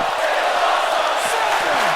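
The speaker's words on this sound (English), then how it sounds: "This crowd is on their feet." A wrestling crowd on its feet roars and cheers in a steady, loud wash of noise, with scattered shouts rising above it.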